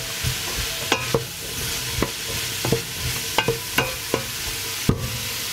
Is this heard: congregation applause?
no